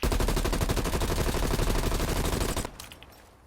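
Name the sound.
assault rifle firing in video game Call of Duty Black Ops Cold War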